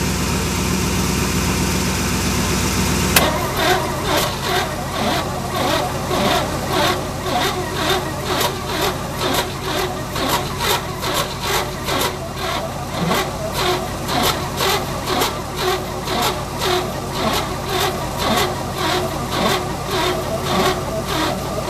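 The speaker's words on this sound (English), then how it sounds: "As you saw there, it was sputtering" A car engine turning over after cranking and running roughly with a low-charge battery, shifting after a few seconds into a loud, uneven pulsing chug that continues close throughout.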